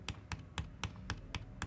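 Computer keyboard or mouse clicks made while recording artboard design work, seven sharp evenly spaced clicks at a steady rhythm, close and moderately loud, with no talking.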